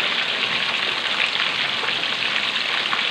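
Fish frying in hot oil for a sweet-and-sour pomfret dish, a loud, steady, dense crackling sizzle that continues without a break and with no talking over it.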